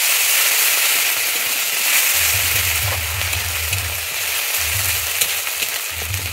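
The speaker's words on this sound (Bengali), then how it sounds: "দিয়ে আমি আদা কাঁচা লঙ্কাটাকে একটু ভেজে নেব।" Ginger and green chilli paste frying in a pan, a loud steady sizzle throughout with low stirring scrapes coming in bursts.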